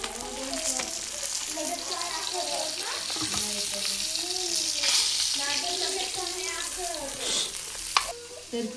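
Boneless tilapia pieces fry in a pan of hot oil with a steady, loud sizzle and crackle, while a person stirs and turns the fish.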